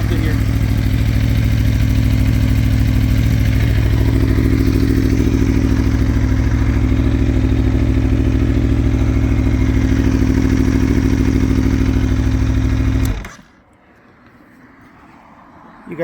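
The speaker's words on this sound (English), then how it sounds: "Give a little rev. Still cold, so I'm not going to rev it hard." Cold 2017 Aprilia Tuono Factory 1100 motorcycle engine idling and revving gently, loud and close. The steady engine note runs for about thirteen seconds, then cuts out abruptly into near silence.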